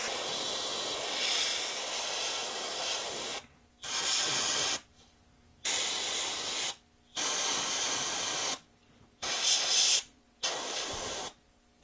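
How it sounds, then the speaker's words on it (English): Bursts of fine hissing spray from an airbrush painting a walleye fishing lure's eye, several pulses of a second or two separated by short silences, close and even. "We're going to take this color and we're going to basically spray it around the entire eye"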